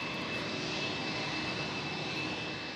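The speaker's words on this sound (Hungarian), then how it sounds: "A gép két Gripen vadászrepülőgép kíséretében landolt a repülőbázison." Engines of an Embraer KC-390 military transport aircraft drone steadily at an air base, a constant, moderately distant roar with a faint high whine running through, with no voices.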